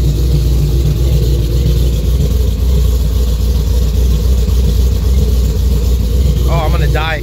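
A supercharged 5.8-liter automatic Ford Mustang GT500 rumbles loud and close with a steady, deep engine drone throughout, and a voice briefly cuts in near the end.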